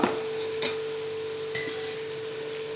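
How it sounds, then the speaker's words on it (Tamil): Chilli powder sautéing in oil in a pan for prawn biryani, a steady soft sizzle with a couple of faint stirring scrapes and clinks, close and continuous, no talking. "மிளகாத்தூளை சேர்த்து நம்ம வதக்கிக்கணும்"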